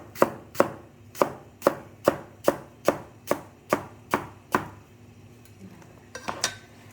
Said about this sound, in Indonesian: Ya udah, kita diiris tipis.